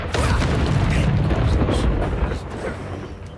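The Incendio fire spell goes off in the game Hogwarts Legacy as one sustained, loud, roaring whoosh that fills the scene and fades slightly toward the end, heard close with no talk over it.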